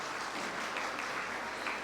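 An audience claps at a Cambridge certificate presentation ceremony, a soft, distant, continuous patter of many hands with no voices over it.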